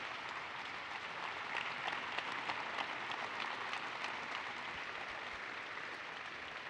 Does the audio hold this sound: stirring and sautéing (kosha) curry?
no